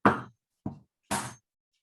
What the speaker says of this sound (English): I have a nice little hammer here